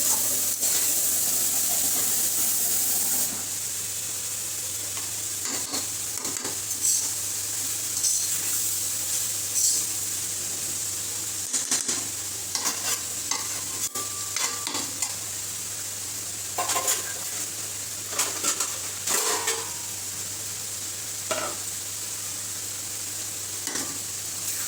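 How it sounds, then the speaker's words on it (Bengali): Leafy greens (shak bhaji) sizzling in a pan over low heat, a steady close hiss with scattered clicks and stirring scrapes throughout, no talking. "তো এই যে শাক ভাজিটা হয়ে আসছে।"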